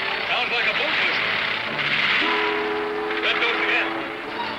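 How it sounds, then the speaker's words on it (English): A boat whistle sounds in a 1941 wartime serial scene, a steady tonal blast entering midway and holding for a couple of seconds over ongoing engine-like rumble and background noise. "Sounds like a boat whistle."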